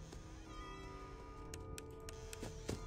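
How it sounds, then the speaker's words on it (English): A cat meows in the horror video game Five Nights at Freddy's 4, a short, fairly loud call over a steady electronic hum with a few faint ticks. "Oh, the cat."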